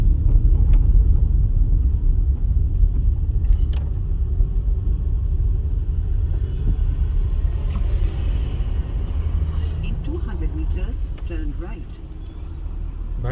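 Busy road traffic in Bhogpur, India, with cars driving past on a road where traffic rules go unenforced: a continuous loud low rumble of engines, with horn-like tones near the end and someone talking over it.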